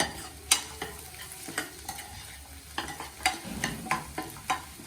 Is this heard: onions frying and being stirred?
yes